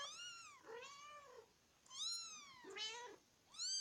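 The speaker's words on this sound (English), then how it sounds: "So here we have one of the kittens." A kitten meows repeatedly at close range, four clear, high, drawn-out cries with short pauses between them in a quiet room.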